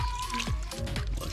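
Vinegar poured into food in a short, close liquid trickle and splash, lasting about a second, over a busy kitchen background.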